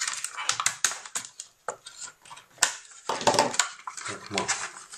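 Plastic blister packaging around an LED lamp being cut open, heard as irregular crisp snips, crackles and crinkles close to the microphone, with someone talking over part of it.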